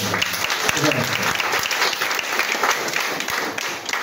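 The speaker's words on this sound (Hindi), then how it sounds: "एक बार भोला जी के लिए जोरदार ताली" An audience at a Raftaar program in Gola gives Bhola ji a hearty round of clapping, a busy, fairly close patter of hands that runs the whole few seconds with faint voices underneath.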